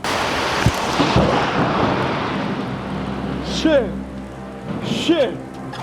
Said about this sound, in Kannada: ಎದ್ವಾ ಮಳೆ ಬರ್ತಾ ಇದೆ